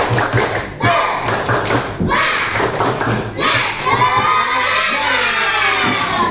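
Children in a classroom clap in quick rhythmic bursts of spirit clapping with thumps and shouts, the group noise loud and close, followed by lively chatter and overlapping voices.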